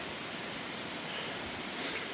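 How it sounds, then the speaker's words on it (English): Broadband rushing water of waterfalls seen from atop Raven Cliff, a steady even roar with no breaks, alone and without talk. "Waterfalls everywhere."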